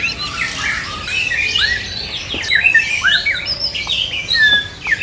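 Songbirds squawk and chirp in dense overlapping calls at a kiosk in an Indonesian bird market, where black-breasted birds are kept for singing; the calls are loud and continuous, with no talking.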